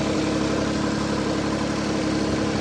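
A farm tractor engine running steadily nearby, a continuous loud rumbling drone with no break and no voices.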